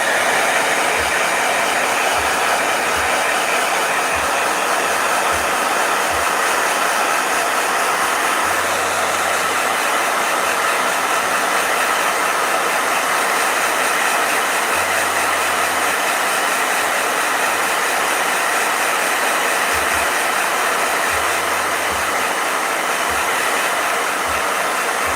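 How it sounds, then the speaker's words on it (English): A blow dryer running on its heat setting, a steady loud broadband whoosh that holds unbroken from start to finish with no voices. "With the heat setting. Blow dryer."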